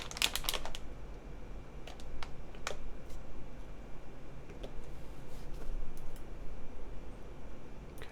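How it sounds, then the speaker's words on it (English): Keys clack on an Atelier Magnus Slate Zero mechanical keyboard, with a quick flurry of strokes at first, then sparse, irregular single presses over steady background hiss. "let's try typing on this"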